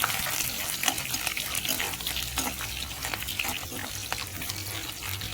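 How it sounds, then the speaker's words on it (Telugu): Curry leaves, chopped onions and green chillies fry in oil. The close, busy sizzle crackles steadily with small popping bursts and no pause. "ఒక 2 రెబ్బలు కరివేపాకు వేసి అవి వేగిన తరువాత ఉల్లిపాయ, పచ్చిమిర్చి, మనం తరిగిన ఉల్లిపాయ, పచ్చిమిర్చి అవి కూడా వేసి ఎర్రగా వచ్చిన వరకు వేసుకోవాలి"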